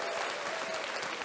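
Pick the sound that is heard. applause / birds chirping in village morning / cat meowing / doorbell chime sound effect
applause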